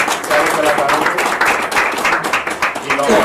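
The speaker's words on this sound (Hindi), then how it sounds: "उसके लिए एक बार जोरदार तालियां हो जाए सारे कलाकारों को" Clapping from a crowd at a film success party rises and falls in bursts while a voice speaks over it in Hindi.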